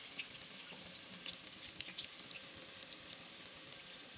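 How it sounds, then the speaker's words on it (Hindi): Seekh kebabs frying in a pan give off a steady, moderately quiet sizzle and crackle with no pauses, and small pops rise above the hiss. "बारी बारी इस तरह से मैं सारे कबाब फ्राई करूँगी"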